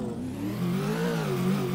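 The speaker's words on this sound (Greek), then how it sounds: "Η πιο γρήγορη βάρκα του κόσμου." A motorboat engine in GTA IV revs and climbs in pitch, a steady droning whine that rises as it speeds up.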